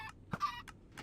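Minecraft chickens clucking in short, separate bursts, a few quick clucks close by in a quiet setting with no talk.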